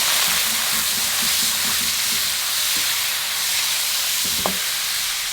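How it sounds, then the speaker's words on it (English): A spoonful of coconut cream being stirred into a Thai green curry sizzling in a pan, with a steady loud hiss of frying throughout and faint scraping stir strokes, no talking. "giving it a stir"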